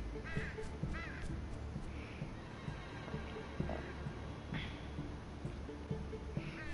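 Crows caw in the video game Unravel, repeated harsh calls at irregular intervals over a low, busy game background.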